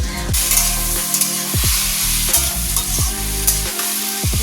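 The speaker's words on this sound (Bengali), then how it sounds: "আর শুকনো লঙ্কা ফোড়ন দিয়েছি" Dried red chillies tempering in hot oil make a loud, close sizzle and spatter, broken by repeated stirring scrapes at regular intervals, with no talk.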